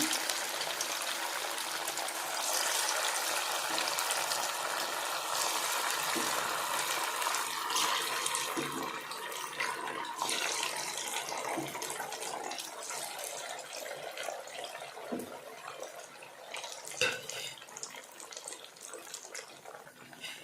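Sago vadas (javvarisi vadai) sizzling steadily as they fry in hot oil, a dense continuous crackle and hiss heard up close with no talking.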